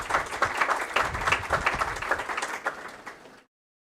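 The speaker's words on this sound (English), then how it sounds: "Let's give a big round of applause for him." A lecture hall audience claps steadily for several seconds to welcome a speaker at an academic memorial lecture, then the applause cuts off abruptly.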